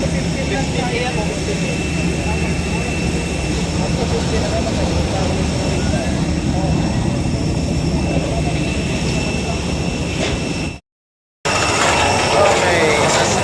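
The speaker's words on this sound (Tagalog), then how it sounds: "Okay, sasakay na kami ng mga airplane." A jet airliner engine roars steadily at an airport, a loud continuous whine and rumble that cuts out briefly near the end and then resumes.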